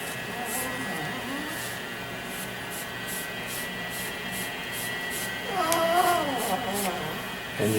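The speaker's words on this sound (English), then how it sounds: "you can hear my little dog whining in the background here" A small dog whines intermittently in the background of a leather workshop while a front panel of a knife sheath is being tooled. Wavering, nasal cries come a little louder toward the end over a steady electrical hum.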